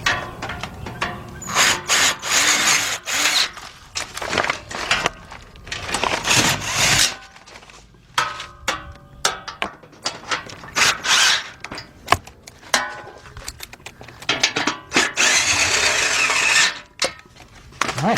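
Bolts being tightened with a ratchet under a Kia Sorento, Sedona or Amanti (or Hyundai Santa Fe / XG350) during a timing belt and water pump job: repeated bursts of clicking and mechanical rattling, close and fairly loud, with short pauses between runs.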